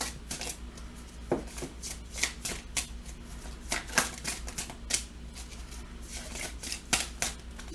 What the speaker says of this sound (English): Give it 3 more shuffles